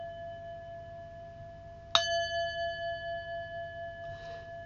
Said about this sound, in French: C'est un bol tibétain.